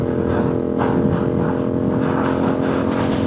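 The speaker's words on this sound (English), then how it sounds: "I think you would struggle to find a better sounding adventure bike" A CFMoto 450MT adventure motorcycle engine rumbles steadily at close range, a deep throbbing idle with a brief rise in revs, loud and continuous throughout.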